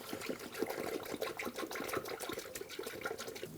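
Coolant pouring through a funnel into the radiator of a 2011-2018 Ram 1500 pickup, a steady close liquid trickle and gurgle running throughout with no talk.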